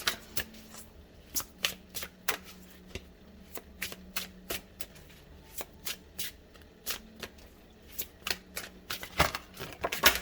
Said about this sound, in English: I ask for one more card, a final message that we can leave group 3 with